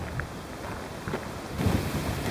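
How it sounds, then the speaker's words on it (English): Wind gusting outdoors along the West Highland Way between Milngavie and Drymen, a steady low rumble of wind buffeting the microphone that swells louder toward the end, with no talk. "The wind's getting up a wee bit"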